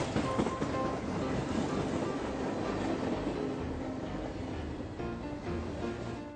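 Double-decker train passing, a continuous rolling rumble and rail clatter that holds steady and then eases slightly toward the end.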